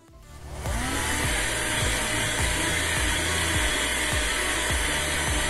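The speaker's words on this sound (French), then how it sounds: "c'est un aspirateur qu'on utilise. Ça, c'est un aspirateur de table." A small tabletop vacuum cleaner whirs steadily and loudly after a quick spin-up, its pitch wavering slightly with regular rhythmic dips as it runs.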